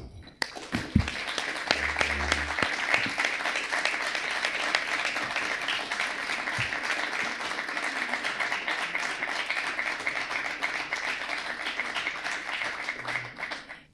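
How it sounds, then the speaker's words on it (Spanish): Warm audience applause welcoming guests onstage at a cultural talk event, a dense steady wash of many hands clapping that sustains throughout with little variation. "los recibimos con un cálido aplauso"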